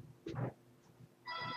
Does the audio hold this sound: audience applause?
no